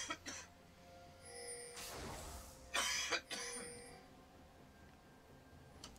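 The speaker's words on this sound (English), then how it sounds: "Still coughing quite a bit." A person coughs in a few short, harsh bursts, fairly faint and separated by quiet background hum, over a League of Legends esports broadcast.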